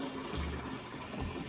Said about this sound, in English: So I'll put some hot water in a pan.